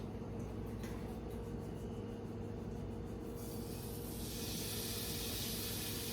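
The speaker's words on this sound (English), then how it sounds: "Hear that sound? That's the sound you want to hear when you pop meat into a skillet." Chicken sizzling in a hot skillet, a steady loud hiss that runs throughout and grows brighter toward the end, close and without talk.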